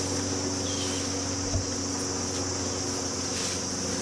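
Bees humming steadily around a hive frame during autumn hive preparation, a dense continuous close-up buzz with no clear breaks.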